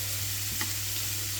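Onions and carrots frying in a pan for herring with vegetables: a steady, even hiss of sizzling oil with a low hum underneath, brief and unbroken.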